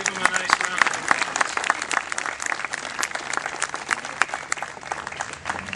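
Applause from an audience at a Serbian cultural event fills the clip as a steady patter of many hands clapping at moderate distance, with a voice heard over the top.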